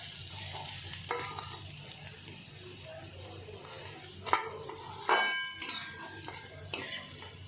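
Onions frying in a small amount of oil in a kadai for beresta, with a steady low sizzle, occasional stirring and clinks of a metal spatula against the pan, heard up close with no talking.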